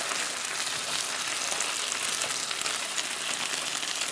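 Onion and garlic fry in a pan with chicken, a loud, steady, dense sizzle that holds unbroken and close throughout, with no talking over it.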